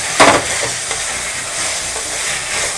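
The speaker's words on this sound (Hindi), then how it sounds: "इसको हम भूनते हैं और इसमें डाल देते हैं ये हरी मिर्च कटी हुई" Mutton with chopped green chillies frying in a pan for a dry salt-and-chilli mutton dish: a loud close sizzle with a sharp burst of hiss near the start, then steady frying and stirring scrapes without talk.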